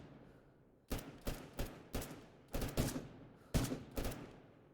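Gunfire in a video game cracks in sharp, loud shots, single and in quick pairs, about nine in under five seconds, with no talk.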